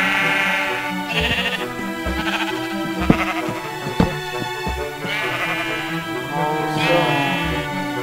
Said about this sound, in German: Achtung Schafe